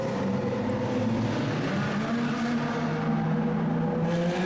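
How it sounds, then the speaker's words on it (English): Lamborghini Aventador supercar in a convoy through the Monaco tunnels, a sustained loud engine drone with a steady low harmonic hum echoing in the enclosed space, revs easing slightly then swelling near the end, no voices. "Epic convoy through the Monaco tunnels with some insanely loud supercars, and this Aventador just flamed consistently."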